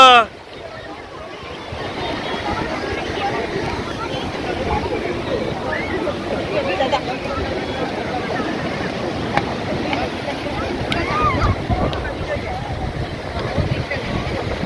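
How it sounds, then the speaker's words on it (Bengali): Sea waves meet from two sides at the Dhanushkodi confluence point near Rameswaram, giving a continuous broad surf roar with wind buffeting the microphone and faint voices in the background. "দিক দিয়ে সমুদ্র এসে মাঝখানে বাড়ি খাচ্ছে"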